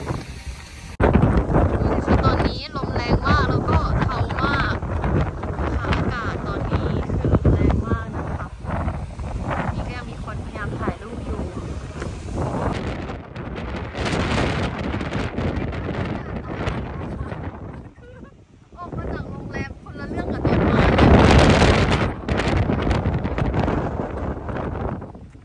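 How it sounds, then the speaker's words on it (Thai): Strong wind roars across the microphone outdoors at a hotel in Beijing, steady and loud with gusty surges throughout, while someone talks over it. "ดูอากาศสิคะแล้วดูเราลมแรงมาก"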